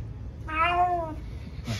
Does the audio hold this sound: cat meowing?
yes